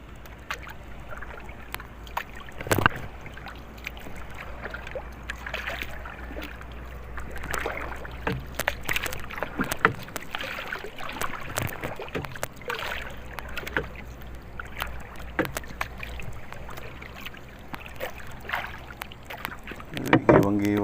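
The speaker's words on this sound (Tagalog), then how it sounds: "Giwang-giwang yung bangka." A small fishing boat rocks at sea over a sandy bottom, giving a steady wash of water and creaking hull knocks with sharp bumps, wind buffeting the mic and occasional voices nearby.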